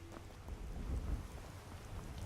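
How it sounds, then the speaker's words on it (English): Steady rain with low rumbling thunder swelling near the middle, from a fantasy game called Tales of Trylle, heard alone without talk. "Oh, it's raining."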